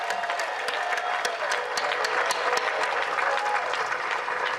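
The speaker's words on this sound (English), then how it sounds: "Give yourself a round of applause." Outdoor rally crowd in a city park applauding itself, steady sustained clapping from a large crowd heard from some distance, even and continuous with no talk over it.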